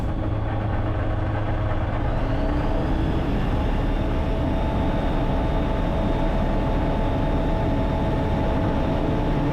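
Small airplane engine droning steadily at high power through a takeoff roll and climb in gusty wind, a continuous loud hum with a tone that shifts slightly partway through.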